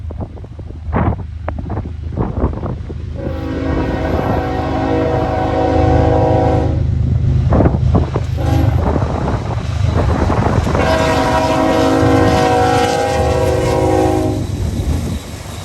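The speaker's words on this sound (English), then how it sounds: "we see NS 171 with a nice lash up of an ES 44DC, an SD 40-2, and a Union Pacific GEVO" Norfolk Southern freight train led by an ES44DC, an SD40-2 and a Union Pacific GEVO locomotive: short horn toots, then two long loud horn blasts over the rumble and clatter of passing rail cars, with wind buffeting the microphone.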